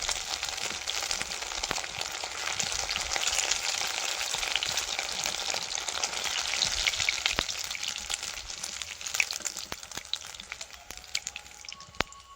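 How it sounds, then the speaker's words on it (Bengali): Pieces of maida dough seasoned with salt, turmeric and chilli powder sizzle steadily in hot oil, a dense continuous frying hiss with scattered pops and crackles, close and fairly loud, with no voices. "এবার ময়দাগুলো ভেজে নেব।"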